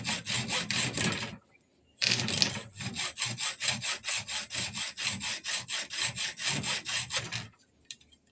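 A hacksaw cuts through aluminium tube with steady, close back-and-forth rasping strokes in two bursts separated by a short pause. There is no talking.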